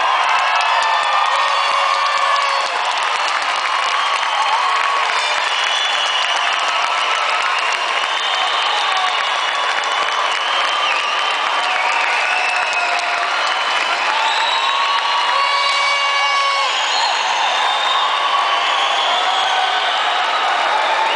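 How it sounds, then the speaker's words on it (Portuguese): A large crowd applauds and cheers for graduates at a ceremony, with sustained dense clapping, whoops and shouts filling the space steadily and loudly throughout. "por meio dessas palmas que ecoaram por este lugar"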